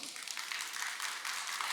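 Audience applause closing a lecture on Buddhist temple food by a monk at a temple food festival, a steady even wash of clapping throughout, fairly quiet and distant.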